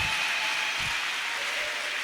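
A church congregation at a French-language service applauds, a steady wash of clapping hands that fills the space without pause, with a faint tone running underneath.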